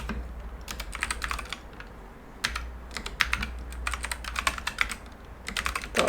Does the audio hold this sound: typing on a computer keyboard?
yes